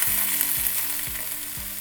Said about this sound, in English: we're gonna take our 1 chopped onion, saute that in our olive oil